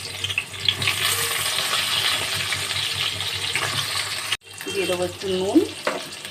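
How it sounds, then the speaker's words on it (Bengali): Eggplant pieces frying in leftover fish oil sizzle steadily in a pan, with occasional stirring clinks, while someone speaks briefly near the end. "এবার এই মাছের তেলের মধ্যে আমি বেগুনগুলোকে ভেজে তুলে নেব।"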